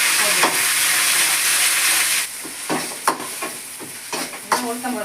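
Urad dal sautéing in a pan gives a hissing sizzle at first, then settles into quieter frying broken by several sharp scrapes and clinks as it is stirred.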